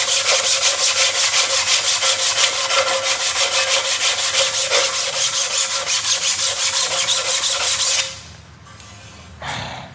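Abrasive surface cleaning on a car engine part, such as a cylinder head from an Opel Insignia, makes a steady, loud, rhythmic grinding-scrubbing rasp close up for about eight seconds, then stops abruptly, leaving quiet with a brief final scrape.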